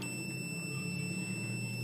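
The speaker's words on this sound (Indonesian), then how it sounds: "kita posisikan di mode buzzer lagi" A multimeter in buzzer continuity mode, testing a dead laptop's board, gives a continuous faint electronic tone that holds steady and unbroken throughout, with no speech over it.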